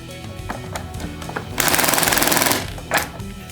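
An Acetech speedloader loads BBs into a Northeast FAMAS gas blowback airsoft magazine: a rapid, even mechanical rattling burst of about a second, set between quieter clicks and handling noises, with a short sharp clack near the end.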